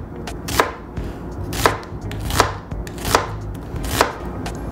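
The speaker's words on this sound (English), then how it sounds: "I'm gonna be cutting up half an onion," A knife slices half an onion into thin slices on a cutting board, with five sharp, evenly spaced chops standing out clearly over a low background hum.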